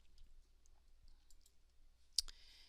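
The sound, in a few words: mouse clicking on a text field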